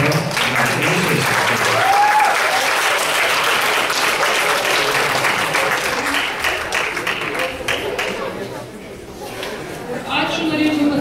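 Loud, sustained applause from an audience at an awards ceremony honouring Vilnius city teachers fills the whole stretch, dipping briefly before swelling again, with faint voices mixed into the clapping.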